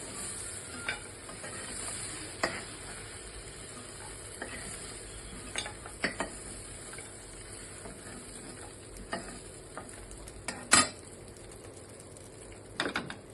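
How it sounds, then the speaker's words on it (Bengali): Large prawns fry lightly in hot oil in a pan while being stirred: a steady, close sizzle runs throughout, broken by scattered scraping knocks from the utensil and one sharper clatter near the end. "এগুলো আমি একটু ভেজে নেবো এর সঙ্গে তেলের মধ্যে একটু হালকা করে"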